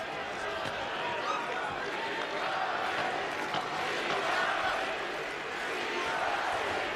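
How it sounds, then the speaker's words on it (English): A boxing arena crowd in Berlin at a Vitali Klitschko heavyweight fight makes a sustained, moderately distant roar of chanting, with a commentator speaking over it. "The crowd in Berlin chanting Klitschko's name."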